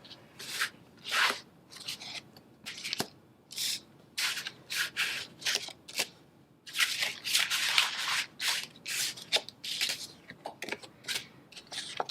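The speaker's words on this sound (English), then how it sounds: "I'm going to shuffle the cards" A deck of tarot cards being shuffled quietly in the hands, a long run of soft, dry riffling and rubbing bursts in uneven rhythm, close by and with no talk.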